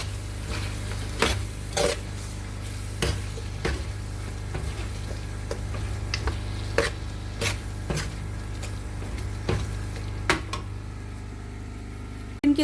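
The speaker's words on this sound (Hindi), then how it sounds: "हम इसमें ये मीट ऐड करके इसकी अच्छे से भुनाई कर लेते हैं।" Chunks of mutton fry in masala in a karahi over low heat, a steady close sizzle with scattered sharp crackles and pops throughout.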